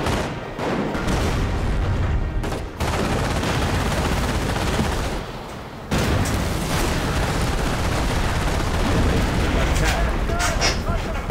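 Dense battlefield din in the WWII strategy game Company of Heroes: Tales of Valor, with continuous gunfire and heavy booming artillery that drops out briefly twice before resuming, loud and unbroken, with voices mixed in.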